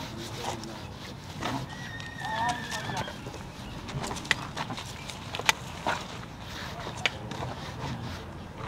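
A horse stands in a stable during grooming, with brushing rubs, a couple of whinny-like tonal calls and scattered knocks and hoof clicks over steady background noise. People talk nearby.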